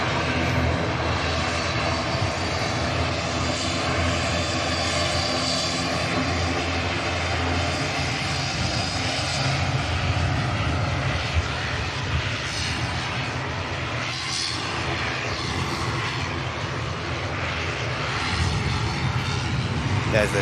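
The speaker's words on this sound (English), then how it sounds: "two aircraft having to put in one or two more inputs just prior to touching down" Airliner on final approach to touchdown at Manchester Airport, a steady loud engine roar with broadband rumble that holds throughout, no talk over it.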